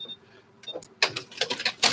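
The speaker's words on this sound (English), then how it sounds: "now I'm sewing for piece A6" Sewing machine stitching a quilt piece: a rapid series of close, sharp mechanical clicks and whirring bursts after a quieter start, with a faint voice underneath.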